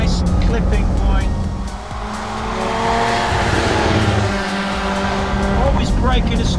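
Formula Woman race car braking and cornering at Cadwell Park, engine revving down under braking then building again, with tire noise through the turn; a driver talks over it throughout.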